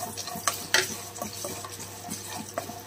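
Roasted gram dal being stirred in a pan with a utensil, several scraping and clinking strokes over a soft frying hiss, close and moderately loud, no voices.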